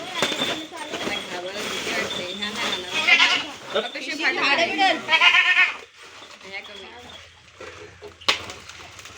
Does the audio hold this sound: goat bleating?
yes